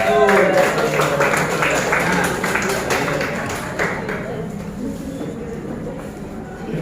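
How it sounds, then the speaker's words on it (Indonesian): Applause for a student group in a school classroom, dense clapping that fades gradually over several seconds, with voices talking over it. "Tepuk tangan untuk kelompok 1"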